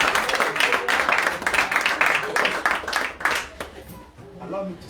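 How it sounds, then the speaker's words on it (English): An audience claps for a presenter at an information technology project presentation, a dense run of hand claps that thins out toward the end while voices talk over it. "Can you clap for this lady?"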